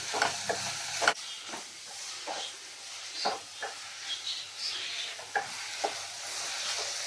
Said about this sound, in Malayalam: സവോളയൊക്കെ നല്ല പോലെ ഒന്ന് വഴന്ന് വരട്ടെ